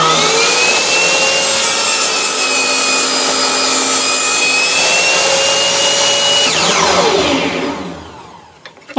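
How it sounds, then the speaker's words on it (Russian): An electric saw cuts through wood for a homemade adjustable book stand, a loud steady whine with sustained tonal harmonics that holds for about six seconds, then winds down as the blade spins to a stop. "включаем пилу в розетку"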